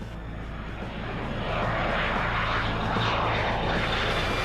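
A Harrier jet aircraft on a runway preparing for takeoff, its engine producing a loud, steady roaring whine that swells slightly as it builds, close and continuous.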